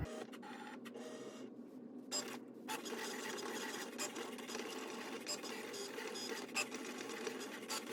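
A vinyl cutting machine cuts a decal, making a continuous close mechanical whir with the carriage buzzing back and forth in quick stuttering bursts. A voice is faintly present.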